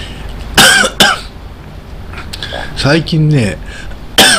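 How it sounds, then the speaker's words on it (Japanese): A few sharp coughs and throat clearing, close and loud, with someone speaking briefly between them. "何でもない時に咳が出る。"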